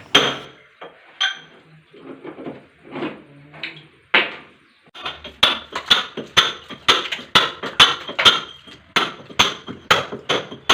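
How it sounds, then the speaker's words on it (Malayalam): Hammer blows on a chisel chip out cut sections of a wall for a concealed flush tank and diverter installation, first scattered softer taps, then a steady run of sharp, ringing strikes close by. "കട്ട് വെച്ച ഭാഗങ്ങളെല്ലാം ഉളിയും ആമറും ഉപയോഗിച്ച് പതുക്കെ വെട്ടിയെടുക്കാം."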